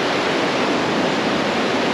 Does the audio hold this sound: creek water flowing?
yes